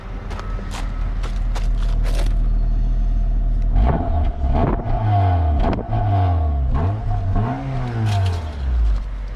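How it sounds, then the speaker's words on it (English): A Mazda Miata with a swapped K-series engine revs up several times, the exhaust rising and falling in pitch with each rev over a steady low idle rumble, close by, with no misfire. "I want to listen to the exhaust."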